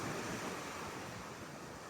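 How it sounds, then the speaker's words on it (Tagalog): Ocean waves wash continuously onto the shore at a bayside beach, a steady broad surf roar mixed with wind rush across the microphone, with no voices present. "Nakaka-relax ang tunog ng dagat."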